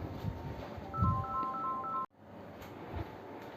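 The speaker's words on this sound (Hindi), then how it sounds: "हाँ सॉरी बच्चों, फोन आ गया था।" Mobile phone ringing with an incoming call during a maths lesson, a short repeating electronic melody of high beeps lasting about a second before cutting off abruptly into quiet room tone.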